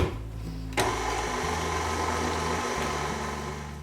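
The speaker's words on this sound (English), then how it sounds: "And then I'm going to mix all of this together real well." An electric mixer whirs through pumpkin spice cheesecake batter of cream cheese, eggs, vanilla, pumpkin pie spice and salt, a steady motor drone that shifts pitch as the beaters labor, close and continuous with no talk.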